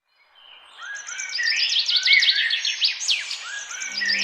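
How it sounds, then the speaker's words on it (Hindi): Morning birdsong: several birds chirp and trill over one another in a busy, continuous chorus that stays fairly loud and close throughout, with no talking. "जब अगली सुबह चिड़िया की चहचहाहट से हरीश की नींद खुल जाती है"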